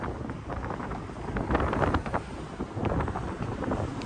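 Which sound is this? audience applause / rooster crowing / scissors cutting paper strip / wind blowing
wind blowing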